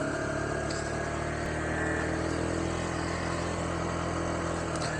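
A Kawasaki Z125 motorcycle rides through neighborhood streets, its engine giving a continuous steady drone with constant wind rumble, loud and close throughout.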